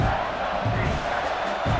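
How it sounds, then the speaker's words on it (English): Big stadium crowd roaring in the College Football 26 video game, Ohio State vs Michigan, a dense continuous cheer near the goal line, with commentary voice layered over it. "And this big crowd doing everything possible to inspire this defense down here near the goal line."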